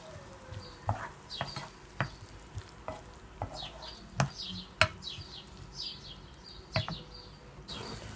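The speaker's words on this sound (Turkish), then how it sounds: "Belli aralıklarla karıştırarak soğan ve sarımsaklarımızı güzelce kavuralım." Onions and garlic frying in a pan for an aubergine dish, a soft steady sizzle broken by sharp spoon scrapes and knocks as they are stirred at irregular intervals, close and alone with no talk.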